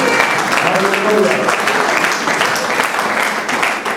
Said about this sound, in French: Et donnez des acclamations à notre Dieu.